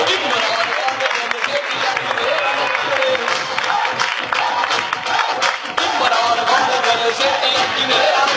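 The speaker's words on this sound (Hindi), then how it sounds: "इनके लिए तालियां।" A large crowd applauds in a thick, steady roar of clapping and cheering that goes on without a break.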